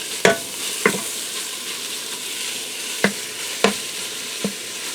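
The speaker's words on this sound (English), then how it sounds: "I'm going to break up my ground beef and then we're going to get the onion in there" Ground beef sizzles in a pressure cooker while being broken up, with five sharp scraping clacks of a utensil spaced irregularly over a steady frying hiss, close and moderately loud, no talking.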